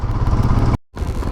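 A Royal Enfield Himalayan motorcycle engine runs while being ridden, giving a steady, close mid-pitched drone with road and wind rumble that drops out briefly before resuming, with no talking.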